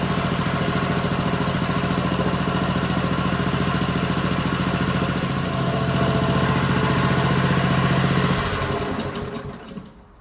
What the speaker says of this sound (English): It's such an easy mower to start.